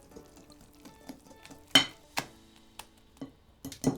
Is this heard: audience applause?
no